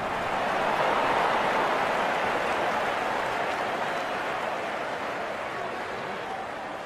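A cricket crowd in the Real Cricket 22 video game applauds and roars as one continuous dense wash of noise, loud and steady throughout.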